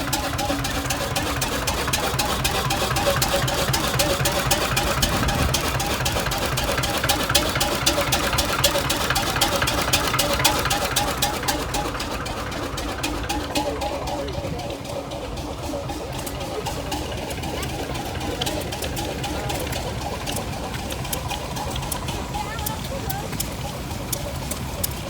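Tractor engines idle at an outdoor tractor show, a steady mechanical chugging and rumble that runs throughout, slightly louder in the first half, with people talking nearby.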